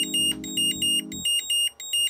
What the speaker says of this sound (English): the alarm will go off for about 5 to 6 seconds to let you know that the battery is fully charged